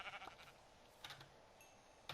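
Sheep bleating in a video game: three short, faint bleats spaced about a second apart, alone with no talk.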